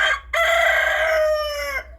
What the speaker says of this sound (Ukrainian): привезли мені півника ось ощубатенького